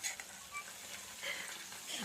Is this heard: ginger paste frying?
yes